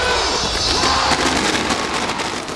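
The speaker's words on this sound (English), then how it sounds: "The sky was filled with spectacular fireworks." Fireworks crackle and pop in dense rapid bursts over the night sky at the 15th Pacific Games opening ceremony in Port Moresby, with a faint crowd murmuring underneath.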